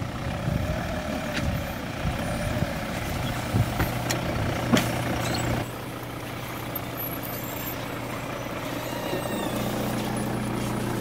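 A Toyota Land Cruiser 300 series drives off-road through scrub. A steady engine drone runs throughout, with scattered scraping and snapping of brush against the body.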